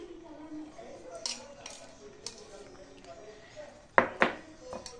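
Spoon clinking against a glass while adding sugar to iced coffee, a few light taps then two sharp clinks near the end, close and fairly quiet with faint kitchen background.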